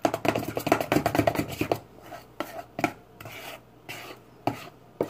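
Pancake batter being whipped in a bowl, a quick run of scraping, rasping strokes that slows into a few separate scrapes with pauses, close and fairly loud.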